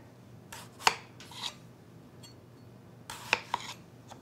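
A knife cuts into a potato that sits between two spoons, giving a few short, crisp slicing and chopping sounds in two clusters, close but fairly quiet, with no talking.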